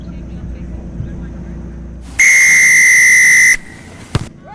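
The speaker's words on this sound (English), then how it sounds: "And there is the first whistle, and the action has started." A referee's whistle sounds one long, steady blast to start a rugby sevens club nationals match, standing out loudly over a low crowd and field murmur, followed by a short sharp knock.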